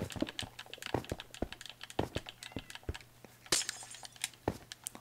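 Game controller buttons click rapidly in an irregular patter of close, light plastic taps during a Minecraft building session, with no talking.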